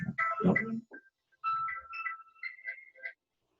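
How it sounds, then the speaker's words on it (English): A cell phone ringtone plays a short electronic melody in a classroom during a lesson. It follows a brief burst of speech and rings for about two seconds at moderate volume. "Wait a minute, my cell phone is..."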